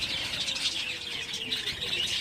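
Budgerigar chicks, five yellow and one deep green, chirp in a thin, rapid, continuous twitter close by, quiet and steady throughout with no talking.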